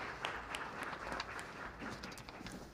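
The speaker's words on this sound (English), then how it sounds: "Once again, please give a big round of applause to the panel." Audience at a film industry seminar gives the panel a round of applause, with brisk, scattered clapping that is fairly faint and distant and lasts only briefly.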